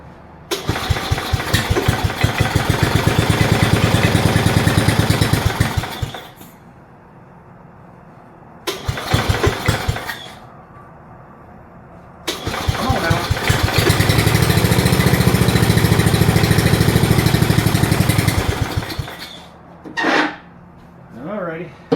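A 1969 Simplicity Broadmoor 727 lawn tractor engine cranks and catches in several loud, close bursts, each running rough for a few seconds before cutting out, with silent gaps between attempts and a short final sputter.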